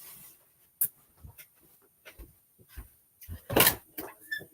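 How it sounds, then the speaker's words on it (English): A bedroom door is opened inside a house with a dog nearby, giving a series of scattered clicks, knocks and rustles and a louder latch-and-swing burst near the end, heard close and alone. "Let me open the bedroom door."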